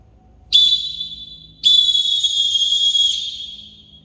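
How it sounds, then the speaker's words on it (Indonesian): Volleyball referee's whistle signalling a team change: a short shrill blast followed by a longer sustained blast, loud and close, with no talking. "isyarat selanjutnya yaitu perpindahan tim dengan peluit dengan nada pendek dan panjang"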